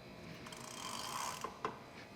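Freewheel ratchet on a Higgs step-thru electric bike clicking softly as the pedals are spun backwards, a faint, quiet mechanical whir with a couple of slightly louder ticks near the end.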